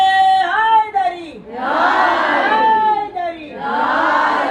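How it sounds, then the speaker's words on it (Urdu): A crowd at a Shia majlis gathering chants the religious slogan "Haidari" in loud unison, answering a call in two long, swelling shouted waves that fill the space. "زوردار آواز میں جواب دیں. نعرے حیدری،"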